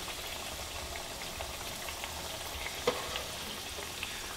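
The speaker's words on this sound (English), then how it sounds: "I'm going to finish frying up the rest of these" Squash fries in oil with a soft, continuous sizzle and faint crackle, fairly quiet and steady, with a small clink near the end.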